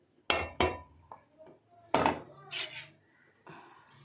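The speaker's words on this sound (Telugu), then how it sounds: "బాగా కలుపుకుందాము, ఎందుకంటే బెల్లం పూర్తిగా కరిగిపోవాలి" A spoon works through a milk mixture with jaggery and a powder of pepper, cardamom and sugar in a pot, giving several sharp metallic clinks and scrapes, close and moderately loud, with brief pauses between strokes.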